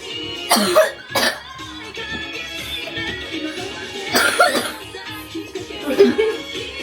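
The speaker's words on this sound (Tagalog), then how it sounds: "pumutok ang ubo" Several sharp coughs rise above a background of people talking, with a couple of bursts close together near the start and more later.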